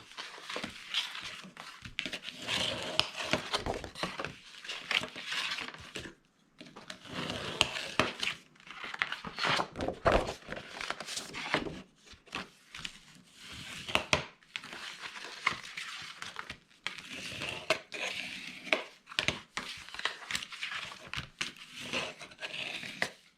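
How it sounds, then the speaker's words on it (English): Scored paper for a gift box is folded and burnished, repeated crinkling and scraping strokes in bursts with short pauses, close and fairly quiet, no talk. "So now we are going to fold and burnish our scores."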